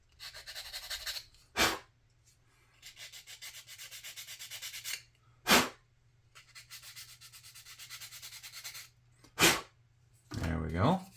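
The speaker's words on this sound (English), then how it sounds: "So we're going to go ahead and give it a sand. The sanding stick here." Rhythmic rubbing and scratching of a sanding stick on a small plastic part of a 1/72 scale T-34/85 tank model, several strokes in bursts separated by short breaths blowing nearby.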